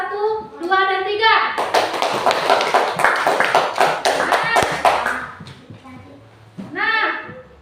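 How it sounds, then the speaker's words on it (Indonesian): Schoolchildren in a classroom clap together for presenting groups, a dense burst of hand claps lasting several seconds, with a teacher's voice before and after the applause. "Kita beri tepuk tangan kepada kelompok 1, 2, dan 3."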